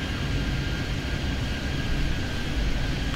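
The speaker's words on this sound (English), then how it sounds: "A lot of planes ready to take off yet." Airplanes at an airport in the video game Airport Madness 3D, set at SFO, give a steady, broad jet-engine roar that holds evenly throughout with no talk.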